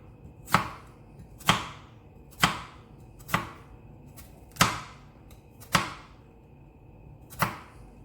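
A knife slicing vertically through a halved onion on a cutting board makes seven crisp, evenly spaced chops, close and clear against a quiet background, no talking.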